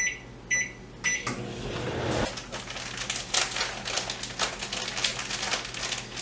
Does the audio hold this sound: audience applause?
no